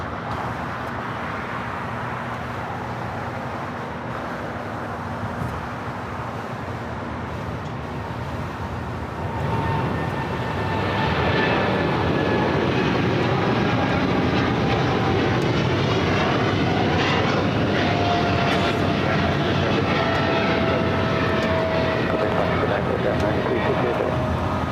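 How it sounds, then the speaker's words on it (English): An MSC Air Cargo Boeing 777 freighter begins its takeoff roll at LAX: a steady distant engine drone swells into a louder, sustained roar partway through and holds there. "that 777 freighter now rolling it down"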